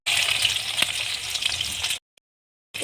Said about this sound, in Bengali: তেলটি গরম হয়ে গেলে এতে আমি পেঁয়াজ কুচি দিয়ে দিব